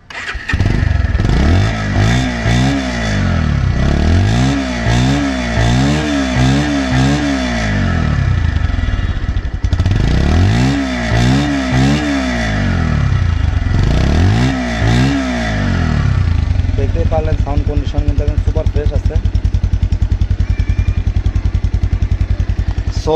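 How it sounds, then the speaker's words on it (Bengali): A used Bajaj Pulsar 150cc motorcycle with only 321 km on it idles and is revved repeatedly, loud and close, with rhythmic throttle blips in bursts and a steady idle between them, no talking. "তো দেখাও বাইকটির সাউন্ড কন্ডিশন এবং পারফরম্যান্স।"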